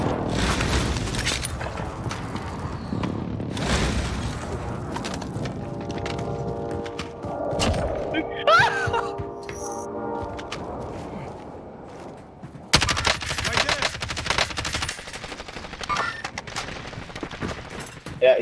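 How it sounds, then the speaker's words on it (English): Video game combat with bursts of gunfire and explosions from an enemy airstrike, a dense run of shots and booms with a loud new burst partway through, and players talking over it. "Enemy airstrike."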